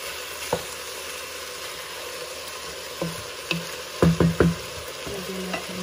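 A spoon stirs chicken tinola in a cooking pot, a few scattered scrapes building to a quick cluster of clanks against the metal over a soft background hiss.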